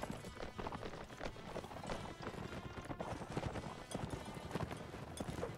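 Many hooves pounding in a fast, dense clatter, a herd of horses galloping close by in a busy, chaotic battle scene in Mount & Blade Warband.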